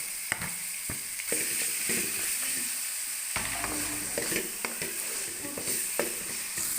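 Beef sizzling and frying in a pan with lightly browned onions, a steady hiss broken by scraping stir strokes and clacks of the spoon, close and continuous with no talk.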